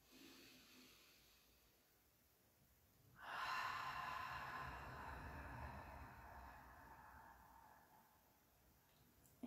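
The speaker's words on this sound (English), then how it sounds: "Deep breath in." Slow deep inhale and exhale during a yoga meditation, a soft breathy rush swelling partway through and fading over several seconds, close and quiet with no talking.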